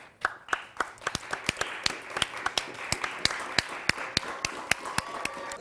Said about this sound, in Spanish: Un aplauso para la Yushi, por favor.